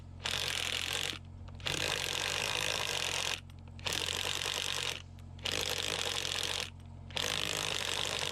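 Truck camper jacks being cranked in five bursts of loud, close ratcheting mechanical whirring separated by short pauses, each run lasting one to two seconds.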